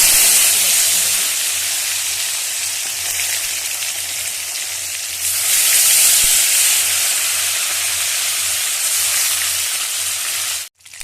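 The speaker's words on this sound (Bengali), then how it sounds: "এই শোল মাছটা কিন্তু এরকম লাল লাল করে একটু ভিজে নিতেই হবে" Snakehead fish frying in hot oil gives a loud, steady hiss and sizzle that holds close and continuous for about ten seconds, then cuts off abruptly.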